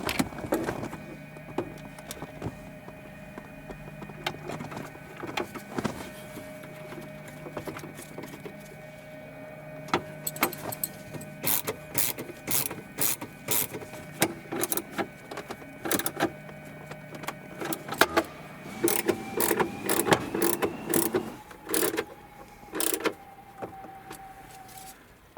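A ratchet driving 7mm bolts into the glovebox assembly of a Volvo XC, heard as rapid clicking bursts over a low steady hum, fairly quiet and close, with no talking.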